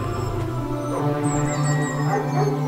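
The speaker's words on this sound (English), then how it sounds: "we hear the sound of dogs in the distance" Dogs bark and whimper faintly in the distance, a few scattered yelps over a steady low hum.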